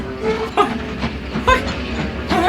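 A ghost train runs on rails with rumbling wheels and rhythmic clickety-clack thumps, loud and close, under a continuous mechanical din.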